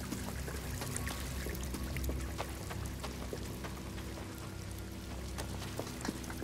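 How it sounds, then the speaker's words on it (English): Steady falling water from a water supply feature in the video game Star Wars Jedi: Fallen Order, a continuous broadband pour with scattered droplet splashes, moderately loud and unbroken throughout with no talk. "Is this a falling water supply?"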